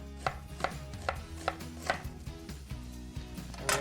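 A knife slices through onions on a cutting board in a home kitchen, crisp chopping strokes landing in a steady rhythm about every half second, close and clear without talk.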